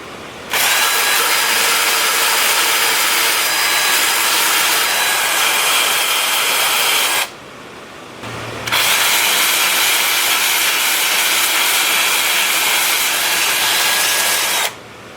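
Sanding an apple wood bowl spinning on a wood lathe gives a loud, steady abrasive whir with a short pause midway before the sanding resumes, with no talk.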